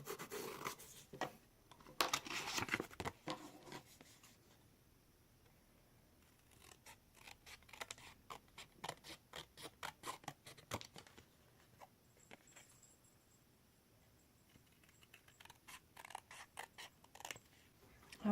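Scissors snip scrapbook paper for covering a gift box, quiet close crisp cuts coming in irregular clusters with pauses between, soft and alone without talk.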